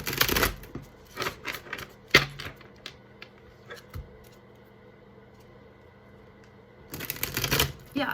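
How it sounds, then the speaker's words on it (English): Tarot cards are shuffled in quick riffling bursts, then a long quiet pause before another flurry of shuffling at the end. "I feel like I should shuffle again."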